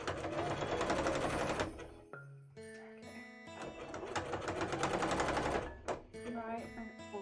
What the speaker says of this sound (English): we are sewing